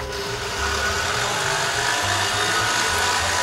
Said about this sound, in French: on va mettre dans la cuve du batteur nos 500 g de mascarpone